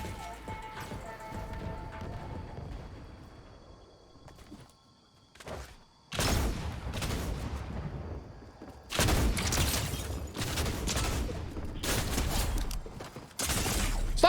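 Rapid gunfire bursts in a shooter video game where a shotgun has just been picked up; quieter sounds at first, then loud, dense volleys of shots clustered from mid-clip onward.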